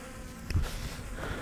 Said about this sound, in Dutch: motoren beginnen te draaien en dan gewoon gas omhoog